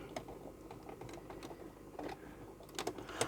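Sewing machine stitching faux leather: a quiet, close run of short mechanical ticks and whirs with uneven bursts of needle strokes, no talking.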